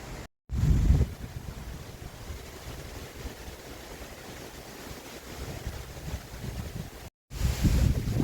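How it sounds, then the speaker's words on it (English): Strong wind gusts during a derecho storm roar over a camper, buffeting the microphone with heavy, rumbling bursts that swell and ease, loudest at the start and end. "There's some strong gusts"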